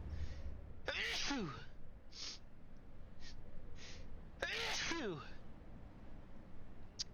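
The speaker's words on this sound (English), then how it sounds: "Bad time to be sneezing." A person sneezes twice, several seconds apart, each a sharp, loud burst with a falling tail, set against quiet background noise.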